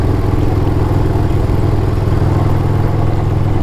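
A Perewitz custom Panhead bobber motorcycle running, its engine a loud, close, steady low rumble with a lumpy rhythmic throb and no talk over it.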